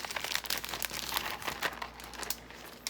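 Paper crinkles and rustles as a crafting swap package is unwrapped by hand, a quiet continuous crumpling close by with small tearing textures.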